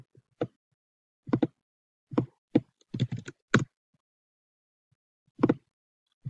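Computer keyboard keys pressed for a paste and Enter shortcut while spacing letters in Cricut Design Space, a dozen or so crisp close clicks in small irregular clusters over near silence.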